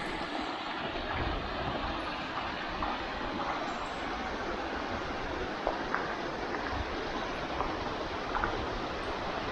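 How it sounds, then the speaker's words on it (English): Rolling water of a creek beside a campsite at Vogel State Park, a steady, dense broadband rush that holds evenly throughout with no talking. "So if you want to hear the rolling water of the creek"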